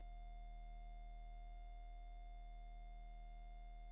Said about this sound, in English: it doesn't clear the FM sound buffer and it just keeps humming.